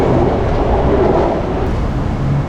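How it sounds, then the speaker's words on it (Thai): A Bangkok Skytrain pulling out of an elevated station, a loud continuous rumble and rushing roar of the cars that stays steady and close. "รถไฟก็เพิ่งออกไปเมื่อกี้"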